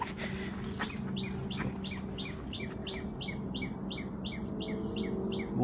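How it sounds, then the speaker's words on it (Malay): A titih bird in a fruit garden gives a long run of rapid, evenly spaced high chirps, repeating steadily at moderate distance over a faint background hum. "Ni ada burung ni."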